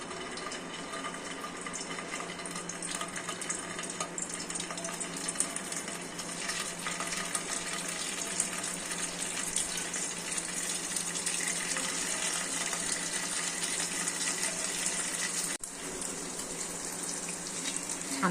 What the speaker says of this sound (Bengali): ছানাগুলো দেখো দিয়েছি, দেখো বড়া ভাজছি।